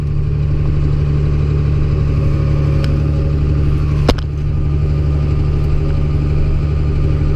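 A large tractor engine idles steadily with a low, constant rumble, and a single sharp click or knock rings out partway through.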